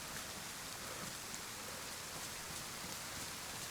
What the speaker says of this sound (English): I'm not even going to be surprised that it's raining.